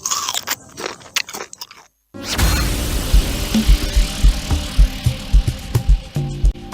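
A creamy, crunchy New Bisco Coaster biscuit is bitten into, giving a run of loud, close crunches and chewing after a brief quiet gap that follows some earlier, softer sounds.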